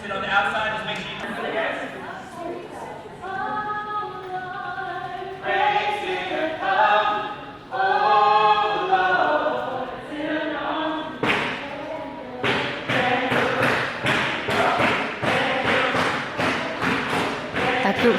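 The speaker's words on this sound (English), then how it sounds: "That group's still singing. I'm sure you can hear them." A group of people sings in a museum in Washington, DC, their voices blending into a sustained choral sound for several seconds before giving way to a run of rhythmic thumps and claps.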